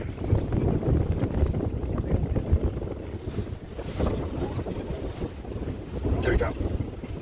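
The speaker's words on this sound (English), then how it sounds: "It's quite windy." Strong wind buffets the microphone in heavy, rumbling gusts outdoors near Hanoi or Ha Long, Vietnam, with a faint voice now and then underneath.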